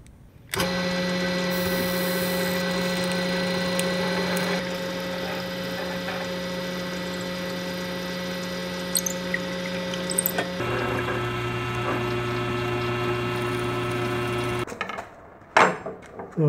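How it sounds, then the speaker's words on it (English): A steady motorized whine of a power drill boring into a wooden post with a 1/4 inch bit, running continuously with a pitch change midway, then cutting off near the end. "so I'm going to use a 1/4 inch drill bit."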